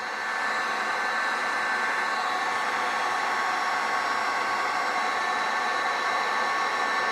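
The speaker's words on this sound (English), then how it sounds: "all I'm going to do is put the heat gun on low and just melt that off" A heat gun on its low setting blows a steady, even airy whoosh while softening soy candle wax at home. The sound is loud and constant with no pauses, and nobody speaks.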